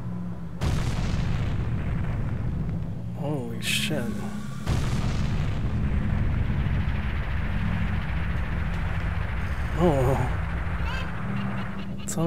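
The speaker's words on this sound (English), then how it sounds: "That fucking sonic boom, dude." A sonic boom erupts during the Volvagia boss fight in The Legend of Zelda: Ocarina of Time: a loud, sustained roaring blast with a few high, honking creature screeches over it.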